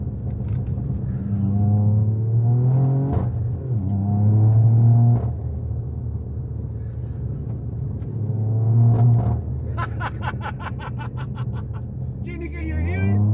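A straight-piped Toyota Yaris GR running an anti-lag map gives a loud, rumbling engine note that rises and falls with revving, and sharp crackling pops and bangs burst out near the end.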